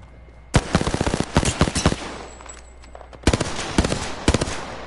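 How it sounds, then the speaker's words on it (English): Loud bursts of automatic gunfire in the video game Apex Legends, two clusters of rapid close shots separated by a quieter pause, with no talking. "Someone else is shooting at him"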